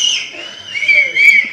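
Audience members whistle loudly at a Tamil film audio and trailer launch event, with several sharp sustained whistles overlapping in bursts over faint crowd noise.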